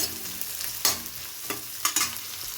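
Green chillies and curry leaves fry in hot oil, a soft continuous sizzle broken by a few sharp crackles and stirring scrapes.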